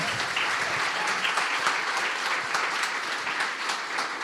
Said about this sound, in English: Give Callum a round of applause.